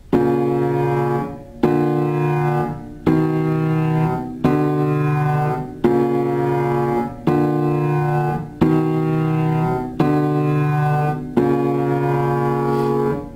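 Piano chords from the Steven Universe theme are struck one after another at a steady, slow pace, about nine in all, each ringing briefly before the next, clear and close.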